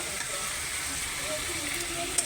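Potatoes sautéing with spices in a pan, giving a steady, even sizzle that holds without a break and sits close and moderately loud, with a faint clink near the end.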